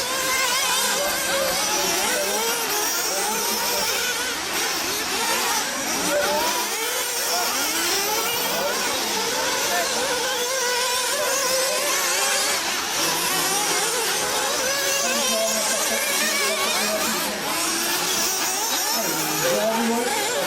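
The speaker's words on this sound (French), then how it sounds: "Derrière, vous avez Robert Battel qui accélère un bon temps, Robert." A racing engine accelerates during the 2011 Montpellier Grand Prix final, roaring loud and sustained with rising and falling revs throughout.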